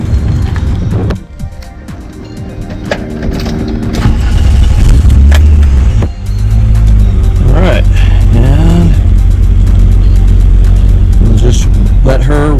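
A car engine runs loud and close after a transmission repair with an added transmission cooler, a steady rumble rising at moments into revs, with people talking over it.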